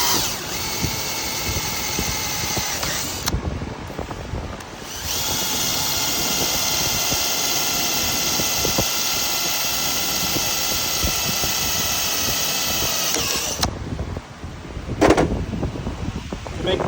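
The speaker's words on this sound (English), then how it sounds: "Now I have to drill them to a smaller diameter" A power drill whines steadily in two long runs, enlarging rivet holes in a Porsche 928 cooling fan's metal, separated by brief pauses, with clanks and handling noise between them.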